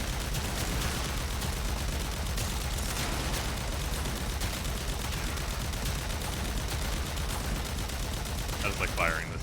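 Weapon firing in Warframe, a rapid, sustained stream of gunshots packed tightly together over steady game noise, loud and continuous with a few brighter effect sounds near the end.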